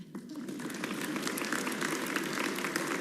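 Audience applause in the chamber during a New Mexico State of the State address, a dense, steady patter of many hands clapping from moderately far away, rising briefly at the start and sustained for a few seconds.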